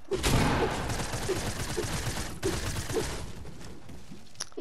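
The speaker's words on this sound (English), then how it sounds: "Stop shooting." Gunfire in an Xbox multiplayer shooter game, a rapid burst of repeated shots that fades off, heard close over background noise.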